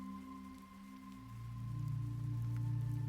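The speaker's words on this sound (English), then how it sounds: "Imagine each drop falling softly outside your window." Gentle rain falls outside a window as a soft, steady patter, quiet and continuous with a low hum beneath, no voices.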